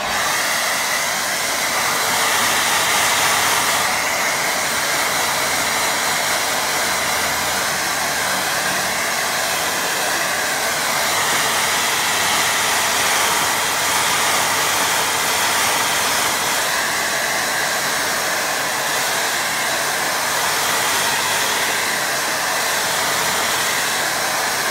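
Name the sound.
hair dryer drying watercolour painting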